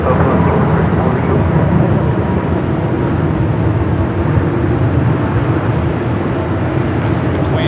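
A Southwest Boeing 737-700 arriving from San Jose at Los Angeles International Airport, heard as a steady, loud broadband roar that holds evenly throughout with no clear rise or fade.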